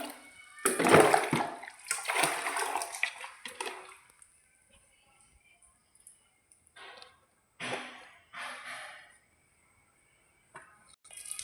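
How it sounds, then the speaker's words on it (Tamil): Water poured onto a smouldering Bhogi festival bonfire, giving a loud gushing, splashing burst at the start that tapers off, followed by a few short separate splashes and hisses with quiet gaps between. "ஃப்ரெண்ட்ஸ், தண்ணி ஊற்றி அணைக்கிறாங்க."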